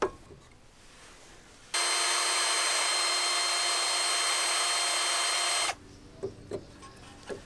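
Power tool trimming the knobs on Subaru front brake pads, one steady, loud high-pitched grinding burst of about four seconds, with quiet handling noises before and after.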